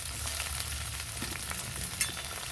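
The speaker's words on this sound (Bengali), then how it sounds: "পেঁয়াজটা একটু ভেজে নেবো।" Chopped onion fries in oil for a homestyle chicken curry, a steady broadband sizzle running throughout with a few soft stirring knocks and one brief clatter near the end, close and even, no voices.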